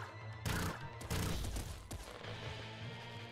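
Burst weapon firing in the Nuclear Throne video game, heard as repeated loud synthetic bursts of gunfire with crashing impacts, packed closely over a few seconds with no talking.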